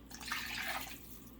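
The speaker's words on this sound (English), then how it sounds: "I'm going to add 1 cup of warm water" A short, soft splash of warm water poured into a well of flour and olive oil for pizza dough, a gentle hiss of running liquid over a low steady hum.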